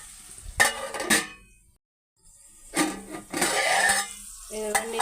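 Cucumber pieces frying in a pan with tomato nearby, stirred gently: a few bursts of spoon scraping and sizzling agitation, separated by a quiet pause, loud and close, with faint voice in the background.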